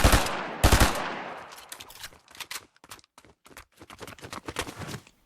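Burst-fire weapon shooting in a first-person video game, several short bursts of sharp cracks with brief gaps between, loud and close, the last ones spaced more evenly.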